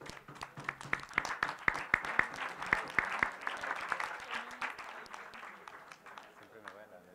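Applause from the audience at a university exhibition debate competition, a dense patter of hand claps that swells, then slowly thins and fades over several seconds.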